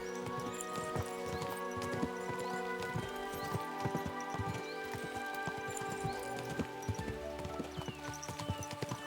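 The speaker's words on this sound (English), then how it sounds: "We should spur the horses on!" Horses galloping in the video game Kingdom Come: Deliverance II, a steady run of hoofbeats under a bed of music, continuous and fairly close for the whole stretch.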